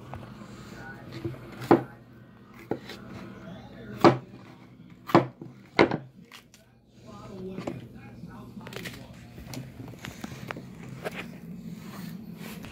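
A knife chops a small green pepper on a board: sharp, irregular thuds spaced over the first seven seconds, then quieter knocks and shuffling, with kitchen hum and some talk in the background.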